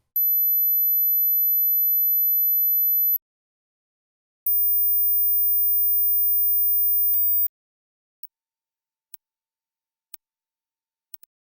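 Pure high-pitched sine test tones from a hearing test, played in rising steps: two long steady tones of about three seconds each, then several very brief ticks at still higher pitch, each separated by silence.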